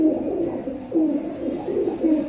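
A male Rampuri high-flyer pigeon coos close by, giving several soft, low, throaty rolling coos in quick succession.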